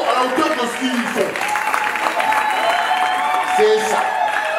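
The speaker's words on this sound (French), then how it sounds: "Applaudissez-les encore à la hauteur de ce qu'ils font." Wedding guests at a civil ceremony in Troyes applaud the newly married couple, steady dense clapping mixed with crowd voices and cheers, fairly close and sustained throughout.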